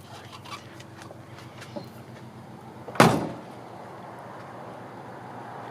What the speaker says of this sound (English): Doors close nice and easy.